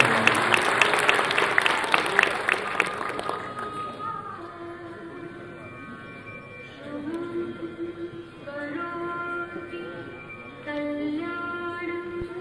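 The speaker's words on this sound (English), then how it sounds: "can we have a round of applause for Redim and Carlos" Audience applause at the inaugural session of an international conference on contemporary computing, greeting the conference co-chairs: dense clapping for the first few seconds, then thinning out as a voice begins speaking over soft background sound.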